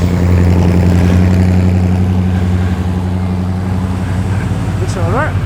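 A Subaru WRX engine idles and then pulls off from a car show in Penrith, a loud, steady mid-low drone with a quick rising rev near the end.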